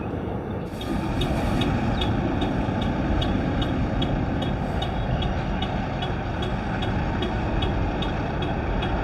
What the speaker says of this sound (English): He doesn't have his seatbelt on, so his truck's honking at him.